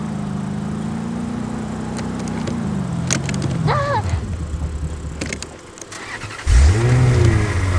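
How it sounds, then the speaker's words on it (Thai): A car engine in the battle royale game Rules of Survival drones loudly and steadily, its pitch sliding down and fading before a sudden louder surge and rising rev near the end, with brief clicks and knocks along the way. "เปลี่ยนรถก่อนรถน้ำมันจะเบิดแล้ว"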